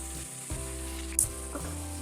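Finely chopped large onion sizzling in hot oil for Kolhapuri mutton, a steady close frying hiss with a couple of brief stirring clinks, no voices.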